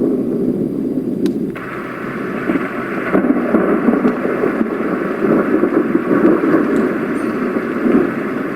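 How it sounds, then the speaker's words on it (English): Thunderstorm track from a Roffie white noise machine: a steady wash of rain-like noise with low rumbling swells, continuous and moderately loud, no speech. "These are my favorite. The thunder."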